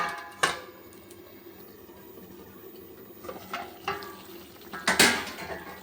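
A few sharp metallic clinks and clatters of a lid being set on a pot of cooking chicken, with soft kitchen rustling between them. The sounds are scattered and not very loud.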